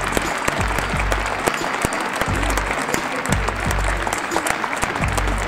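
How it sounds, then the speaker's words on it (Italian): Audience applause at the Spoleto Arte 2020 international art exhibition, vigorous clapping from a crowd with a few sharp individual claps standing out, mixed with faint background voices. "un applauso a Dio"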